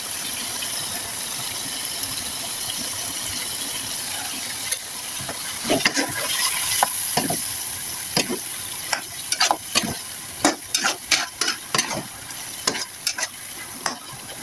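Chicken in sweet soy sauce sizzling in a pan, a steady hiss that gives way to a run of sharp, regular spatula scrapes and taps as it is stirred, close and alone.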